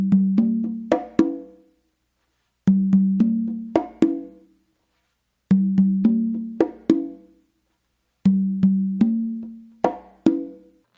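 Matanzas-style guaguancó played on three congas, four repeating phrases of sharp open tones and slaps with quick flams, each phrase ringing out and then falling silent, close and solo.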